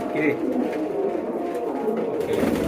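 Pigeons cooing in a loft, low murmuring coos running steadily at close range while a person talks over them.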